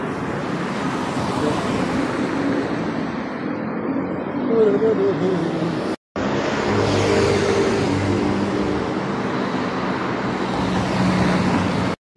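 Loud motorcycles ride by on a market street in Coimbra, Portugal, a sustained roaring engine drone that swells and passes, with a brief cut midway and faint voices underneath.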